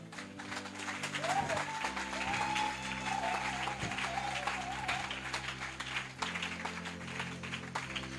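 A crowd at a church youth day event applauding steadily, a dense wash of clapping with some cheering, at moderate distance and without clear speech.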